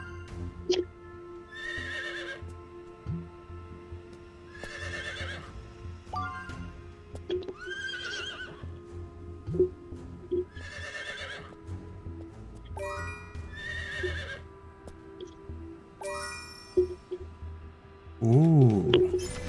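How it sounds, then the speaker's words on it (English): A horse in a video game neighs and whinnies repeatedly, about eight high shrill calls spaced a couple of seconds apart over a low steady game background, with faint clip-clop. "You got a horse."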